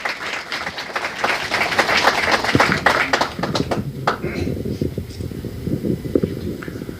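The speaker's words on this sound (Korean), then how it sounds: "여러분들 신평 변호사님을 박수로 환영해 주시기 바랍니다" An audience at a book launch event in Daegu applauds to welcome a speaker, a dense wash of clapping that builds and then thins, with a voice briefly heard in the room.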